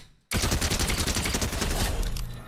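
Rapid SMG gunfire in Fortnite OG Zero Build, a loud sustained burst of fast automatic shots that starts abruptly after a brief quiet moment and rattles on steadily without pause.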